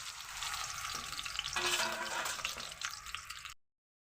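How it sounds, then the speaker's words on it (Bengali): Lata fish dusted with salt and turmeric frying in hot oil in a wok, a steady loud crackling sizzle with a brief stirring surge midway, then cutting off. "এখন আমি মাছটাকে একদম ঝুরঝুরিয়ে করে ভেজে নিলাম"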